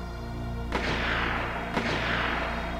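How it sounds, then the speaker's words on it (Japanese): Two sharp gunshots from the anime Attack on Titan ring out about a second apart, each a loud burst trailing into a long echoing rumble over a steady low background. "銃声です。"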